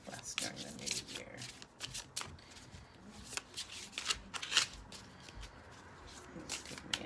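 Slippery tarot cards being shuffled and handled up close, with soft riffling, rubbing and flicking sounds in irregular bursts, fairly quiet.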